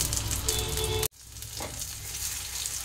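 Fish sizzles steadily in a frying pan on its back side after being flipped, a continuous close hiss broken by a brief cut partway through, with no talking.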